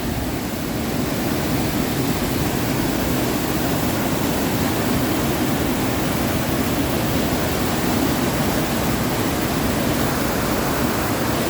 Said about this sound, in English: the water is really rushing here today